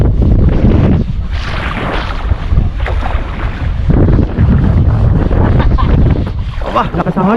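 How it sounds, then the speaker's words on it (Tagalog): Strong wind roars and buffets the microphone throughout, with rushing broadband noise and people talking over it. "Aba, lakas ng hangin."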